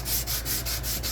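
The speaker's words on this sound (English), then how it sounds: "I am just going to go ahead and give this a light sanding, just to kind of knock some of that off of there." P150 sandpaper rubs lightly over a journal cover in quick, even back-and-forth strokes, a loud, close, hissing scrape with about six regular passes.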